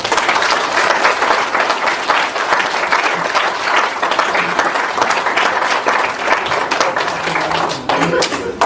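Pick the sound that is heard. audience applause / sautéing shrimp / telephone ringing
audience applause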